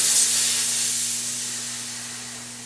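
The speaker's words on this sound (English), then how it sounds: "Unscrew the valve and press it to deflate the tube." Air hisses out of the Presta valve of a road bike inner tube as it is pressed to deflate it. The hiss is close and continuous, fading slowly over a few seconds.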